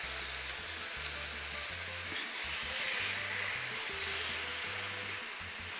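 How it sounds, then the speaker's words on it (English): Marinated chicken pieces sizzle in a hot skillet, giving a steady, dense frying hiss with faint crackles throughout and no talk over it. "place them in my skillet like this"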